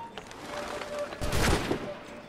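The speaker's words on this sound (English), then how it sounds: "Whoa, shooting at me without even having detected me?" Gunfire in Assassin's Creed III aimed at the player character, a burst of several cracking shots at mid distance over a low game ambience, with no talking over it.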